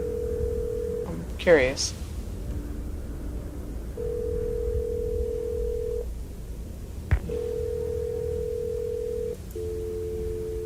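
Steady telephone dial tone from an in-game phone while calling the operator in a mystery adventure game, broken by a couple of short clicks and tone changes, with a brief spoken comment near the start.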